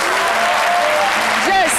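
Studio audience applause on a French-language midday television talk show, a steady dense wash of clapping with whoops and a cheering voice rising near the end.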